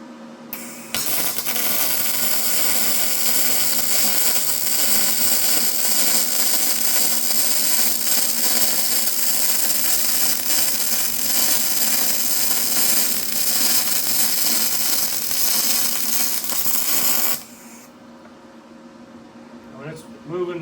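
A YesWelder DP200 multi-process welder runs a bead with a loud, steady crackling hiss that lasts about sixteen seconds and then cuts off sharply, leaving a quieter hum behind.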